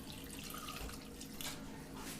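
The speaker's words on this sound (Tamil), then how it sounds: "இப்போ தேவையான அளவுக்கு தண்ணி சேர்த்துருங்க கீரை வேக வைக்கிற அளவுக்கு." Water pours into a pressure cooker holding fenugreek leaves and lentils, a soft, continuous splashing and trickling lasting a couple of seconds, fairly quiet and close, with no speech.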